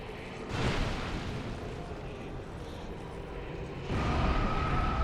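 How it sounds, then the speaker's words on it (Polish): A big explosion from an enemy in Dark Souls 2 erupts as a broad, loud roar that swells and holds, with a second heavy burst near the end, under a constant dense game soundscape. "Wielki wybuch zrobiła"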